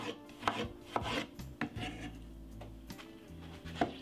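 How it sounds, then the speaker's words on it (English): Two medium-sized tomatoes being sliced with a knife on a board for a salad, a series of crisp, close chopping taps at an irregular rhythm with no talking. "That's the way I'm gonna cut my tomato"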